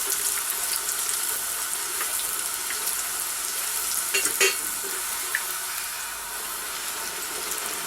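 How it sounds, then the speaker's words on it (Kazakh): Kazakh shelpek flatbreads fry in a pan with a steady soft sizzle, joined by occasional light clinks and scraping stirs, moderately quiet and without talk. "Шелпектерімізді әдемілеп пісіріп алайық."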